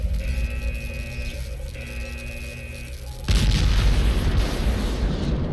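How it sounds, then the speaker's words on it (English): An energy core blows up in the PC game Last Days of Lazarus: after a steady humming, whining tone, a sudden loud explosion hits at once and settles into a sustained, heavy rumbling roar that fills the rest of the moment. "This thing is going to explode."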